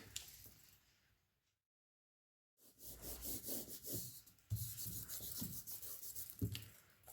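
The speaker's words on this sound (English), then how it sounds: "I'm just burnishing that glued edge down." A glued paper edge on a handmade flip-out pocket is burnished down with repeated firm rubbing strokes, close and fairly loud, in several bursts after a brief silence.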